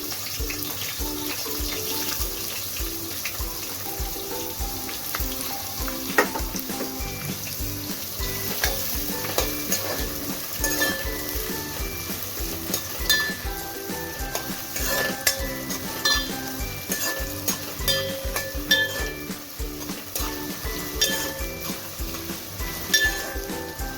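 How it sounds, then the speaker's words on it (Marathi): Onion fries hard in hot oil with bay leaf in a handi pot, a loud, unbroken sizzle with scattered pops and stirring scrapes up close, no talking. "आपला कांदा छान तळलेला आहे"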